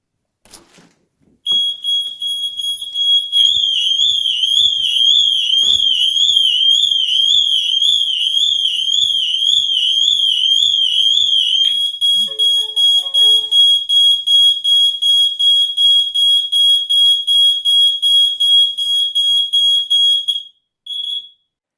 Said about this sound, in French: Là encore, les deux sirènes se déclenchent très rapidement.